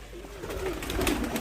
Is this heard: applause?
no